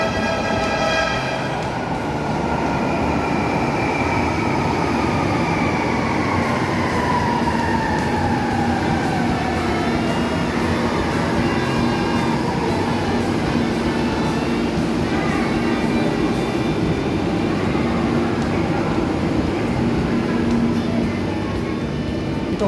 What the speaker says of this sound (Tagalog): So, padating na yung MRT going to Cubao.